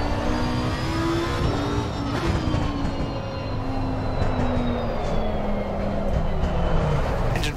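GT race car engine in Assetto Corsa Competizione, a steady loud drone with rising and falling harmonic whine as the car accelerates and shifts, continuous throughout with no talk.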